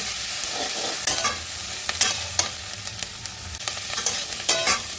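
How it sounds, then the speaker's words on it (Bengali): Onions for a chicken ghugni are stirred and fried in a pan, with a spatula scraping repeatedly in an irregular rhythm over a continuous close sizzle, no voices. "পেঁয়াজ দিয়ে সব শুদ্ধ এবার নেড়ে চেড়ে আবার ভাজবো"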